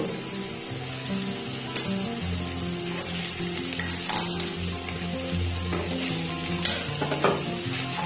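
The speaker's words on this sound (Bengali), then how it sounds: "এখন এখানে আমি ভাতটা দিয়ে দেব।" Cooked rice for Bengali-style vegetable fried rice is stir-fried in a pan with a continuous close sizzle, scattered scraping and clinking from the spatula as it is tossed, and a steady background hum underneath.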